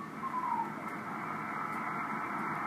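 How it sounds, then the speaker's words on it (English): Amateur radio stations calling on the 10-meter band, American operators sending only their call signs, heard as a steady, faint hiss of receiver noise with a crowded, murky band of signals underneath and no clear speech. "American stations sending their call and nothing else in great abundance"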